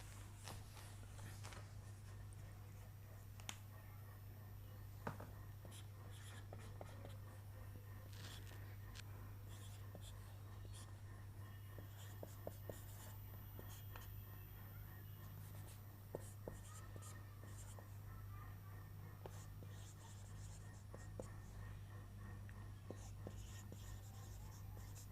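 Pen or chalk scratches steadily while chemistry groups are written out, a soft continuous scraping with occasional taps over a low steady hum, with faint whispery speech now and then.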